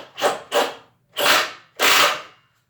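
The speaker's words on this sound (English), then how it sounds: "as you can hear that, they are grabbing into the concrete" Screws being driven into concrete through a Kreg pocket hole jig, four short whirring grinding bursts in two pairs, close and loud, with no talking.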